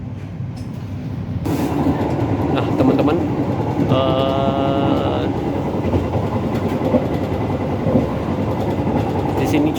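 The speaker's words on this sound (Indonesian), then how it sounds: "kereta berangkat lagi dari stasiun Tulungagung" The Majapahit train departs Tulungagung station and rumbles steadily along the rails with clattering wheels and a brief tonal whine midway, while a person speaks briefly at the start.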